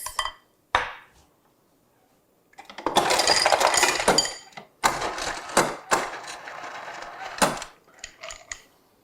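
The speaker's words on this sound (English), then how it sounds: "I'm gonna get some ice." Ice cubes clinking and rattling into a glass during a brunch cocktail demonstration, several loud bursts of clattering and scooping separated by brief pauses, close and without talk.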